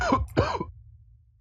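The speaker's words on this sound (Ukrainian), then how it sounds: "Що ти кашляєш?" A single person gives a short throat-clearing cough in two quick bursts, close and fairly loud, fading into quiet low background hum within a horror room-escape game.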